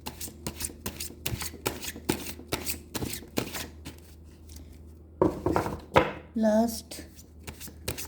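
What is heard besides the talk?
shuffling tarot cards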